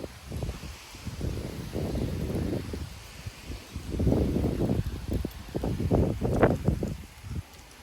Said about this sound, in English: Wow, that was a big gust on my cypress.